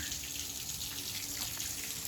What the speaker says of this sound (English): the low point drains, they're still dripping a bit.